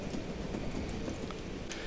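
Horse hooves clip-clopping steadily while riding along a path in Skyrim, a continuous trotting rhythm at moderate level with faint ambient texture and no talk.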